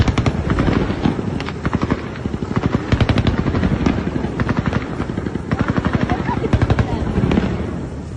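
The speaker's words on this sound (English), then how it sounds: "Калаши, пулеметы." Rapid bursts of machine gun and rifle fire at a Russian oil port against incoming sea drones, loud continuous rattling volleys over a helicopter-like drone, with a voice shouting.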